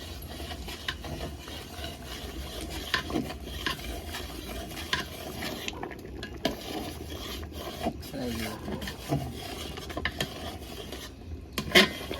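Khichuri is stirred in a pan over a fire, a steady rhythmic scraping and rasping of the spoon against the pan with faint sizzling, close and continuous with no talk.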